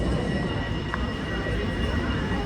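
Train rumbling at Rotterdam Blaak station, a steady loud low roar with faint high metallic tones, continuous throughout.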